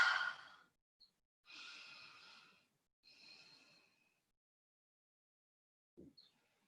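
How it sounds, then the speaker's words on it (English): Slow deep breaths during a yoga session at home, three drawn-out airy exhales or inhales separated by silence, then a short snort-like breath near the end, close and quiet with no talking. "Breathe deeply."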